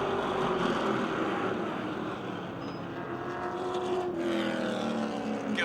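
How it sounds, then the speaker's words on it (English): Race cars roar around Motordrome Speedway during a final-lap battle, a loud continuous engine drone with a rising and falling whine as the cars pass, filling the whole stretch. "now he hangs tough to the outside of Minjock, door to door, as they come to the white flag."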